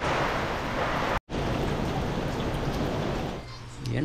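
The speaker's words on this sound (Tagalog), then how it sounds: "malakas yung yung ulan sa hangin, hindi tayo makalabas" Heavy rain and gusting wind from Typhoon Gaemi in Taiwan roar in a dense, steady wash, broken by a short dropout and fading slightly toward the end.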